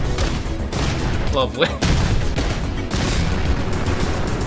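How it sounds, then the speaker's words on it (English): Rapid, dense bursts of explosions and gunfire from the video game Fallout 4 crackle continuously and loudly, with a brief spoken word from a man cutting in over the chaotic din. "Let the explosions commence"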